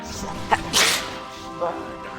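A short, sharp sneeze bursts out once, loud and close, over steady game sound and music from a StarCraft II Mass Recall campaign session.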